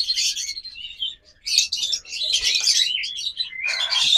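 Several caged birds chirp and tweet in quick, high bursts with short pauses between them, fairly close and clear, with no voices.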